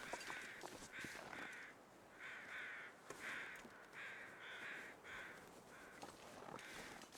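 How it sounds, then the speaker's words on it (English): Crows caw repeatedly in a foggy wilderness in The Long Dark, a steady series of hoarse calls at moderate distance over a soft wind-like ambience, with no talking. "You can hear the crows."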